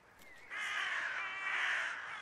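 Crows caw in the horror adventure game Little Misfortune, a short harsh call followed by a long rasping caw, fairly loud and clear with nothing else around it.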